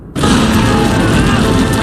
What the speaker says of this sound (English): Moments later, a huge jet of fire erupts.